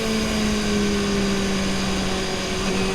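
A BMW S 1000 RR 2025 superbike engine runs at speed with a steady, loud drone and a sustained tone that holds through the whole stretch, with slight pitch shifts near the end and no talk over it.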